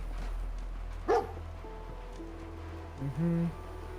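A dog in Fallout 4 gives a sharp single bark, then a pair of short yips and a whine-like bark a couple of seconds later, fairly close over a low hum.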